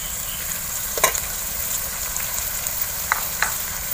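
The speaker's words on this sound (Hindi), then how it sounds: "अदरक और लहसुन का पेस्ट बहुत अच्छी तरह भून चुका है, अब हम डाल लेते हैं 3 टमाटर राफी चॉप किए हुए और 3-4 हरी मिर्चें लंबाई में कटी।" Chopped tomatoes and lengthwise-cut green chilies fry in a pan with ginger-garlic paste, giving a steady, close sizzle with a few brief stirring scrapes and no talking.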